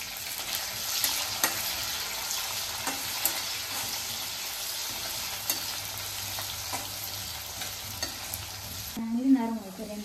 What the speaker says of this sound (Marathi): नंतर मग परत हिरवी मिरची त्याच्यामध्ये टाकली, ती पण अशी छान मस्तपैकी अशी जरा भाजून घेतली